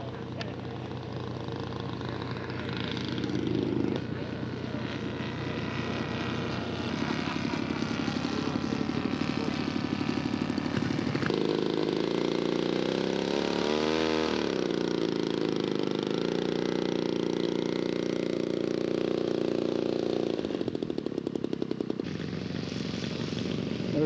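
Scale model B-24 bomber at an air show, flown by a team-scale pilot, its multiple engines droning continuously and loudly for the whole stretch, with a rising-and-falling pitch sweep midway as it passes, under an announcer's talk.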